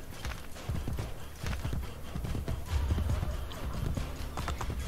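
Steady horse hooves clip-clopping at a walking pace in the video game Assassin's Creed: Brotherhood, close and continuous, with a busy low rumble of movement underneath and no talking.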